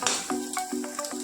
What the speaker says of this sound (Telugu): కాకరకాయ వేపుకోవడం